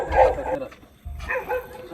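Street dogs bark in a village lane, with two short bursts of woofs close by. Voices talk over the barking.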